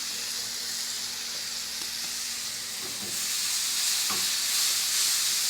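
Dried herbs sautéing with leeks in a hot pan for a garlic-leek quiche, a steady bright sizzle and hiss throughout, with a couple of soft stirring scrapes and the frying growing slightly louder toward the end.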